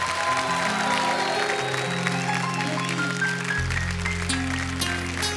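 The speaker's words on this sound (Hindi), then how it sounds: "प्लीज एक बार अर्चना जी के लिए जोरदार तालियां।" An audience at a comedy show claps loudly and steadily throughout, with music playing alongside the sustained applause.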